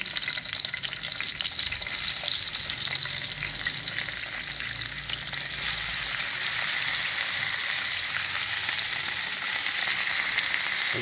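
Dried fish (tuyo) sizzles and fries in a pan of hot oil with a steady, bright crackle that continues for the whole span, moderately loud and close, with faint clinks and stirring.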